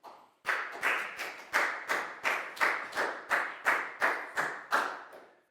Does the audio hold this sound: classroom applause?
yes